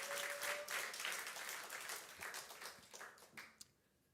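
A church congregation claps together at a Korean dawn worship service, producing a dense, fairly quiet wash of applause that tapers off over a few seconds.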